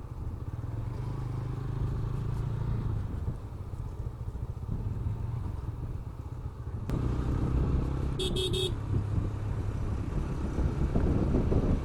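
A group of five motorbikes rides a mountain road in Sajek and Khagrachari, a continuous engine drone that grows louder and rougher partway through, with a brief high horn toot near the end.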